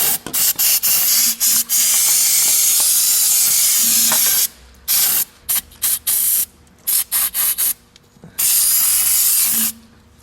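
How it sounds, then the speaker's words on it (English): Short and longer hissing blasts of spray cleaner shot onto the cylinder head gasket surface of a 1997 Nissan 2.4L engine, irregular bursts close by with brief gaps, including one long spray at the start. "Just going to shoot a little cleaner down in here to get rid of some of the particulates."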